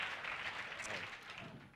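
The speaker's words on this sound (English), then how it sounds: "Have a round of applause." Steady applause from a small studio audience at a cooking show, a continuous wash of clapping at moderate level that holds for about two seconds and slowly fades.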